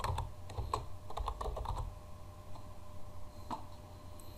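Text being typed on a computer keyboard in irregular bursts of close, crisp key taps, then a few sparse later strokes over a low steady hum.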